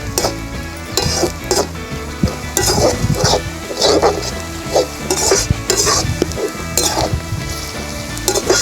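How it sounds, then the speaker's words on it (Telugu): Sliced onions sizzle and fry in a pan with a pinch of salt while being stirred, a steady close crackle with scraping spoon and pan clatter through it, cooked outdoors in a village setting. "కొద్దిగా లైట్ బ్రౌన్ కలర్ వచ్చేంత వరకు మనం వేయించుకుంటే సరిపోతుంది"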